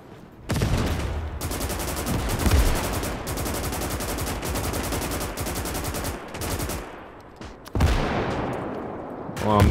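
Gunfire in the Gates of Hell game, with a 122mm mortar among it: dense bursts of rapid machine-gun fire with heavy, booming impacts, loud and near, pausing briefly and then resuming.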